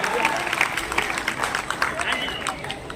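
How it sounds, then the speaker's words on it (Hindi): Applause from an audience for the performers at a cultural festival, with dense overlapping claps running steadily throughout amid crowd murmur and a voice speaking underneath. "इन कलाकारों के लिए एक दफा आपकी तालियों की गड़गड़ाहट इतनी हो जो उनको सम्मान दे।"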